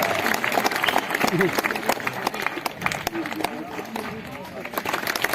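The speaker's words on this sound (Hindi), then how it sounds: "ताली बजाइए" Audience applause at a yoga demonstration, a crowd clapping in dense bursts with someone talking loudly over it and general hubbub throughout.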